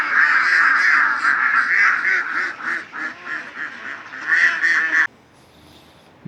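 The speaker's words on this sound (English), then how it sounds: "There are a lot of birds here." Geese and ducks at a small zoo garden in Amman, Jordan, honking loudly and continuously in a close chorus of repeated calls that stops abruptly near the end.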